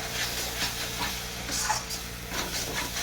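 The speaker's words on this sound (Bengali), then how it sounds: "মশলাটাকে একটু ভালো করে এইভাবে আবার কষাবো" Spice masala with turmeric being stir-fried for chicken in a pan, a steady close sizzle and hiss with soft scraping as the spoon turns the paste, continuous and fairly quiet, with no talking.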